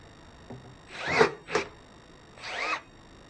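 A Milwaukee powered pruning shear works through a 3/4 inch pine dowel in three short bursts of motorized whirring, close and fairly loud, with brief pauses between activations.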